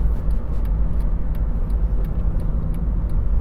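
A car engine drones steadily from inside the cabin while the driver slows for a lower gear approaching a roundabout, a constant low rumble with road noise and no clear rev change.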